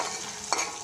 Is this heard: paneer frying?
yes